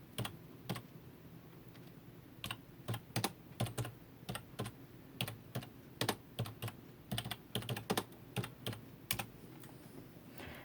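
Keys clack on a computer keyboard as a message is typed, irregular bursts of close, crisp taps over a quiet room with no talking.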